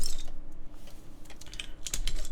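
Keys clatter on a QK Neo60 mechanical keyboard with GMK Rubrehose keycaps, a short run of crisp, uneven clacks close to the microphone with some louder strikes near the end.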